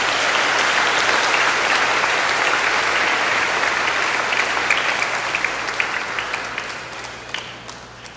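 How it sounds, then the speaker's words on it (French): Congregation at a Catholic mass for the feast of Saint Gérard Majella in Carrefour-Feuilles breaks into loud, sustained applause that fills the church, thinning out slightly toward the end with a few separate claps. "Il mérite d'être applaudi et je vous le demande un grand bravo."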